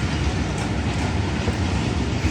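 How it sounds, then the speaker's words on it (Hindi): The Allama Iqbal Express, running from Lahore to Sialkot, passes through Badamibagh station with a steady, loud clickety-clack of wheels and a continuous rumble close by. "9 अप इलामा इकबाल एक्सप्रेस"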